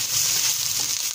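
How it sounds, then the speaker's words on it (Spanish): Onion and chile frying in oil in a pan, a steady loud sizzle with a bright hiss throughout and no talk. "Agregué la cebolla y el chile y esto lo voy a estar friendo"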